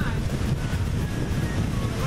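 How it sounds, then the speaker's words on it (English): Wind near a waterfall in England blusters across the microphone in a continuous low roar, steady and close, with no clear voices. "You can probably hear the wind."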